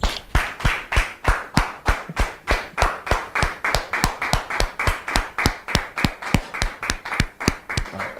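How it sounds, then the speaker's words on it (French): Steady rhythmic hand clapping from a studio audience greeting a guest on a French-language talk show, a string of sharp even claps with no voices over them. "Sous vos applaudissements, s'il vous plaît."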